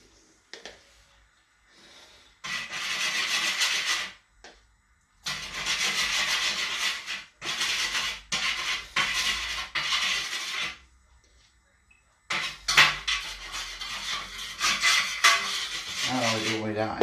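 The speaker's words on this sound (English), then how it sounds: "If we just mix that last little bit into that now." Hands kneading and mixing a paste fishing bait, with bursts of squelchy, rasping rubbing close by, separated by short pauses and ending in a wetter, sticky burst.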